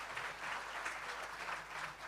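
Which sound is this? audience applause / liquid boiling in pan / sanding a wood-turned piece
audience applause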